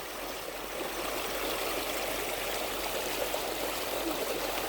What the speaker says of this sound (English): Whoa, water.